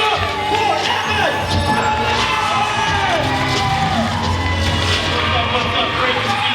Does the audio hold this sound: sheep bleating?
no